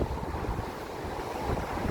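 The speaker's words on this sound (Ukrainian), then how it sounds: "Ви бачите, який сьогодні вітер? Сильний-сильний вітер." Strong wind outdoors near Vienna buffets the microphone in a continuous roar, with a low rushing sound and no voices.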